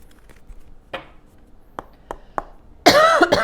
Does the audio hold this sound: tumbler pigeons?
no